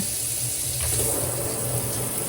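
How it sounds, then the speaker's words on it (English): A Delta Essa 9113-DST chrome pull-down kitchen faucet runs water into a sink in a steady, even hiss and splash that swells slightly partway through, continuous and close with no talking. "I'm going to turn it on. Turns on like that. As you see the water coming out"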